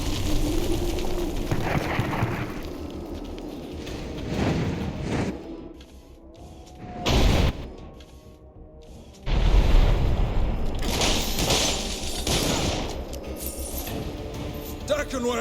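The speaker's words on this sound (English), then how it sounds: "Those cannons are sighted with near-perfect accuracy." Cannons fire in the video game Dungeon Siege III, several heavy booms breaking through dense, clattering battle noise, with brief quieter gaps between the blasts.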